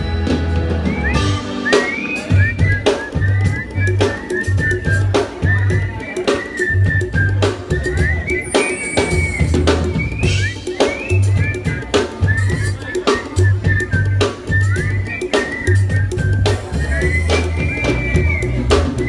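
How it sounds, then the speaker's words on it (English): A resort entertainment crowd whistles along to a song over a thumping live band, the many-voiced whistled melody rising and falling for the full stretch. "Whistle with me, come on."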